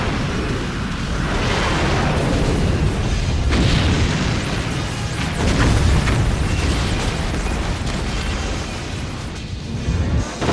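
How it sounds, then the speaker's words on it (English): Animated combined cluster rockets fire and detonate in a dense barrage, a continuous loud wall of booms, bursts and roaring blasts with repeated sharp impacts throughout. "Let's use our combined cluster rockets."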